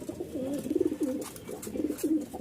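Pigeons coo in a short run of soft, rolling calls, repeated a few times close by with no voices over them.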